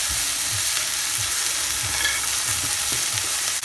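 Okra frying in a pan until crispy: a loud, close, steady sizzle with low thuds of stirring scattered through it, no speech.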